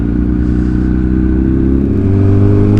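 A Honda CBR1000RR motorcycle with its exhaust note droning loud and close while riding, holding a steady, throaty engine tone with a slight rise in revs toward the end, no talking.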